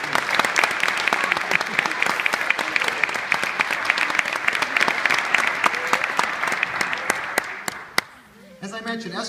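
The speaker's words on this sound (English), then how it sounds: "let's give the family a round of applause" A crowd at a lifetime achievement award event gives a loud, dense round of applause for a family, sustained for several seconds before stopping abruptly, followed by a voice beginning to speak.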